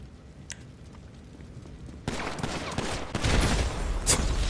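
An explosion goes off in the GTA 5 Online video game: a sudden broad blast at the midpoint that gives way to loud, crackling rumble and scattered bangs. The burst is set against a quieter background of gameplay ambience.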